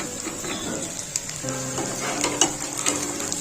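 Potato and pumpkin pieces fry with onions in a pan, giving a continuous close sizzle with occasional stirring clinks and scrapes.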